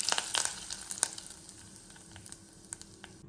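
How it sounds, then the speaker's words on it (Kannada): Mustard seeds and curry leaves sizzle in hot coconut oil for a tempering, a steady crackling hiss with sharp spattering pops that are densest at first, heard up close with no voices. "ಒಗ್ಗರಣೆ ಕೊಡುವ,"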